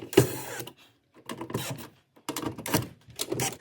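A screw being retightened on the control board of a Viking wall oven: three close bursts of dry mechanical rasping and clicking, separated by short pauses, with no talking.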